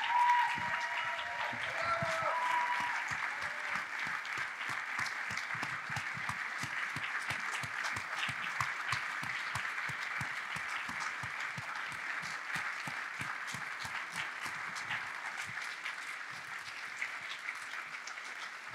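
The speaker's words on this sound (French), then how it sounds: "Je suis désolé de devoir couper les applaudissements" An audience applauds after the introduction of filmmakers at a film Q&A session, sustained dense clapping from a large hall crowd that holds steady throughout, with a voice briefly audible near the start.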